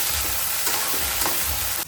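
Okra (bhindi) deep-frying in hot oil, a loud, steady sizzle and bubbling that runs throughout, with no voices over it.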